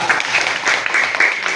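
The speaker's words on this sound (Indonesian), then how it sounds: "Kasih tepuk tangan dulu teman-temannya." Classmates in a school classroom clap together briefly, a dense, steady patter of many hands close by, with a voice faintly mixed in.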